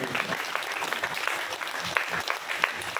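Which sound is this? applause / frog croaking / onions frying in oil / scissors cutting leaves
applause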